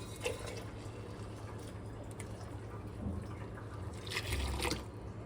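Tamarind water poured into a spice paste, a soft low trickle and dribble of liquid that swells briefly near the end, close and fairly quiet, with no talking.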